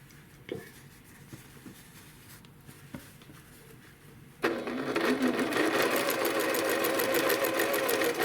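Sewing machine stitching pinned quilt fabric pieces for a block: after a few quiet taps and handling sounds, the motor starts abruptly into a loud, steady rapid stitching rattle that runs to the end, close up.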